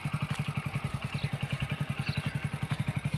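A motorcycle being ridden by a first-time rider in a village, its engine thumping in a fast, even pulse, close and steady throughout with a faint clatter over it.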